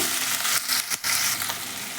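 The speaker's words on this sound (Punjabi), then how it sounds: "ਪਿਆਜ਼ਾਂ ਨੂੰ ਆਪਾਂ 1 ਮਿੰਟ ਦੇ ਲਈ ਸੇਕ ਲੱਗਣ ਦਵਾਂਗੇ" Sliced onions sizzle loudly in a hot pan, a dense crackling fry broken by a few brief stirring scrapes, with no talk.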